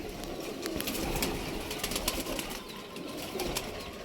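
A female racing pigeon perched up high, with soft rustling, brief wing flaps and scattered faint bird sounds over a noisy outdoor background, no clear talking.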